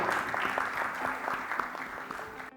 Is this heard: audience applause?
yes